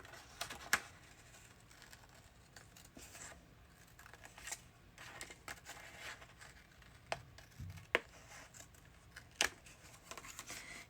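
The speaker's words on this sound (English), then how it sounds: "So I am going to use my scissors on that part." Small sewing-type scissors snip paper for a journal, faint scattered clicks and cutting snaps spread irregularly through a quiet room.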